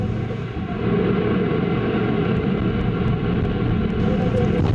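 Ariane 5 rocket Vulcain main engine igniting at the launch pad, a steady, loud low-frequency rumble that swells slightly after the first second and holds as a continuous distant roar.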